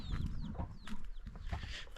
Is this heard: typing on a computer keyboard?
no